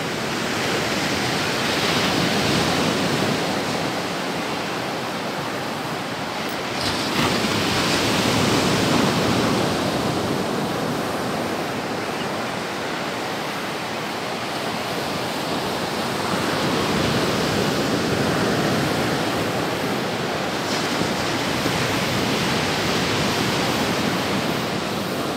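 Ocean surf washes steadily over the quiet beach of Praia da Armação in Penha, a broad continuous roar that swells and eases in slow waves, close and loud, with no voices.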